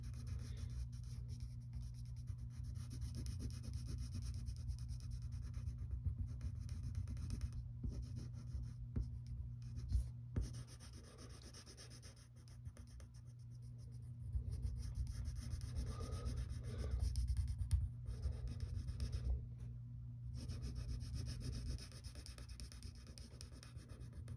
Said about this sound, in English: then you get the side of your pencil and color them in black